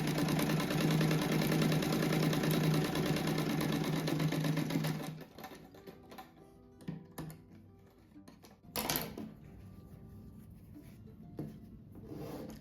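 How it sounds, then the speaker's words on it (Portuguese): Patchwork squares for a scrap rug are stitched together in pairs on a sewing machine: a loud, steady, rapid buzz runs for about five seconds, then stops, leaving scattered handling clicks and rustles. "Primeiro eu tenho que costurar aqui, esses daqui de 2 em 2."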